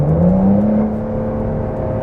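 A Porsche 992 Carrera 4S Cabriolet in sport mode, its engine note rising in pitch as it revs and then holding a steady, loud droning whir near the car.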